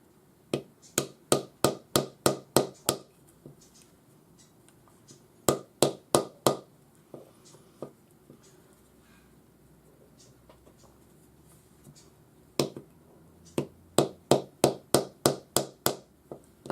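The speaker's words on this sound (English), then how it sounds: "just take your rawhide hammer, sit it vertically like that on your wooden block, tap it," A rawhide hammer tapping a forged opal ring on a mandrel over a wooden block, sharp close taps in quick rhythmic bursts of about eight blows separated by pauses.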